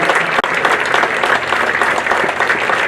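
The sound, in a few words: applause for players at sectional final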